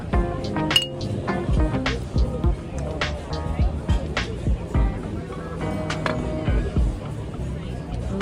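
Glasses clink together in a rosé toast over a meal in Pattaya, Thailand, with several sharp chinks repeating among close, lively chatter and laughter from a small group.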